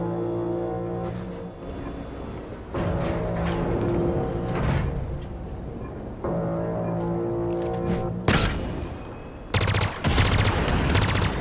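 Sustained automatic gunfire in Halo Infinite, long rattling bursts layered over droning in-game vehicle and ambient tones, ending in a sharp cluster of loud close shots and impacts.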